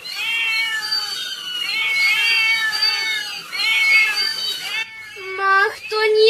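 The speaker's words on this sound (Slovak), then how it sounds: "Zrazu bolo všade okolo veľa, veľa mačiek, kocúrov a mačiatok." Many cartoon cats, tomcats and kittens meow loudly together in an animated Slovak children's story: overlapping, drawn-out high meows with a few shorter, higher mews near the end.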